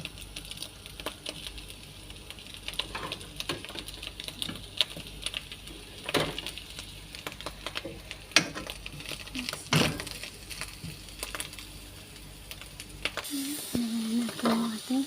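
Onion sizzles in olive oil with a steady crackle and hiss, along with occasional clinks and stirring scrapes, fairly faint and close.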